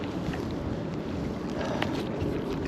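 Strong wind gusts roar steadily across an open lakeside spot in cold, snowy conditions during bass fishing, a continuous close buffeting rush on the microphone with no talk.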